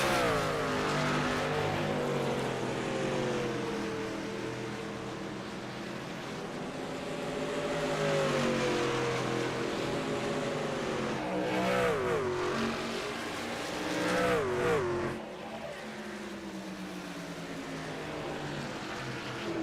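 Engines of racing trucks in a sim-racing game at Phoenix drone steadily. Several pitches glide up and down as trucks jostle and pass, with a few sharp rising sweeps near the middle and end.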